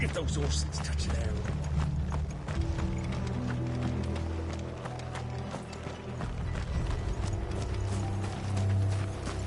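Rhythmic horse hoof clip-clops in Final Fantasy XVI on PS5, with clattering, mechanical ticks, layered over low droning music and a steady background bed.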